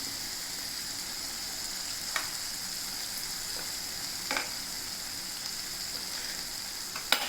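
Chili powder sizzles in hot oil for a mango dal, a steady soft frying hiss throughout with a few faint clicks of stirring, heard alone without talk.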